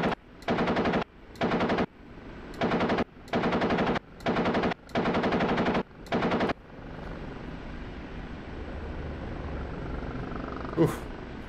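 Gunfire from an OH-58D Kiowa helicopter in the DCS flight simulator: seven loud machine-gun bursts in fairly regular succession, followed by a steady rotor and engine drone.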